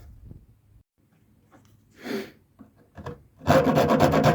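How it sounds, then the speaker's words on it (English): A rasp works across a wooden chopping board: a few soft, scattered scraping strokes, then a loud, dense burst of rapid rough rasping near the end, close up and with no talk. "So I've gotten to the point where I'm kind of rasping it."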